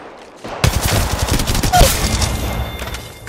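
Rapid gunfire bursts in a video game shootout, loud and dense with sharp cracks and thuds after a brief quiet start, continuing steadily to the end.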